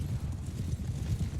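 Horse hooves clop in quick, rolling rhythm during a battle in the video game Mount & Blade II: Bannerlord, a brief, muffled, low thudding burst of galloping.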